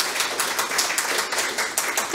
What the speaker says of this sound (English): Big round of applause for Helen.